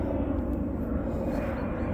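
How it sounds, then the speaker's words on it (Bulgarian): An airplane passes overhead above a rose garden in July, producing a steady, fairly distant low engine rumble that continues unchanged throughout with no voices. "Днеска много самолети има."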